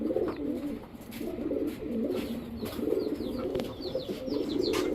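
Several large high-flyer Giribaz pigeons, including a red Lal Chulli pair, coo repeatedly in a steady rolling pattern at close range, with faint chirps and rustling of other birds in the background and no talking.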